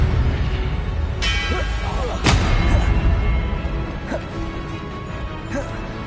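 A Confringo blasting curse going off in Hogwarts Legacy: two sharp, loud cracks early on, followed by a few fainter hits over a steady rumble of spell-combat noise.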